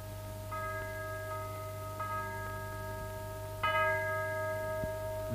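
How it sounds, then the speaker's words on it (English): A chapel bell rings for a wedding, sounding three separate clear, ringing strikes that decay slowly over a steady low hum. "That chapel bell. Ding-a-ling-a-ling for the wedding."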